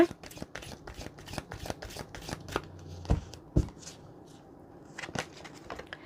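Tarot cards are shuffled by hand in a quick run of crisp riffles and soft flicks, close and fairly quiet, with a couple of louder slaps midway and a short pause before the last few.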